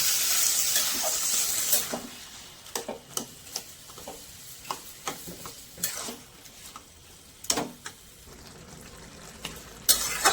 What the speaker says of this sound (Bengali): এবার শাকটাকে ভালো করে কষতে হবে।